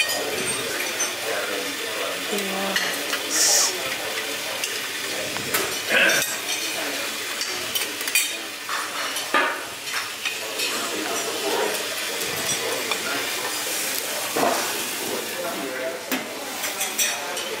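Bacon fries in oil with a soft, continuous sizzle. Stirring scrapes and light clinks of utensils against the pan run through it, heard up close.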